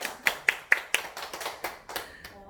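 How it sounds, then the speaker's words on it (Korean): A handful of claps at a meeting, with several sharp, separate hand strikes spaced about a quarter-second apart and then softer, scattered claps trailing off, fairly close and moderately loud. "다시 한번 유혜연 리더님께 박수 한번 부탁드릴게요."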